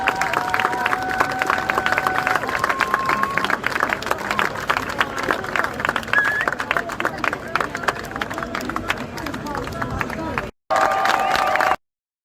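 Crowd noise at a London street protest, a dense continuous wash of clapping, cheering and babble close by, holding steady before a brief cut and a short burst at the end.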